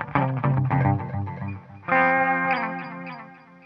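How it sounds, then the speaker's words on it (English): An electric guitar plays through a Line 6 Helix into amps with a ping pong stereo delay, and chords ring out with distortion and echoing repeats that bounce and trail off, loud and close, with no talking. "a ping pong delay so we can really hear the stereo effect."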